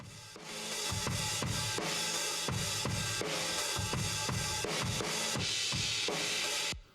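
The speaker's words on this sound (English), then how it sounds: "We have the trash mic." Drum kit captured through a smashed trash mic, crushed and distorted into a dense wall of noise, with steady thudding kick and snare hits driving a loud groove before cutting off abruptly.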